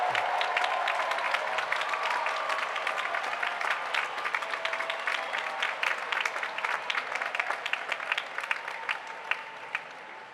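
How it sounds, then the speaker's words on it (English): A large graduation crowd at the University of Virginia's Class of 2024 Final Exercises applauds early graduates, with dense, steady clapping that carries evenly for the full ten seconds. "will those of you who are graduating early please stand so we can give you a well-earned round of applause"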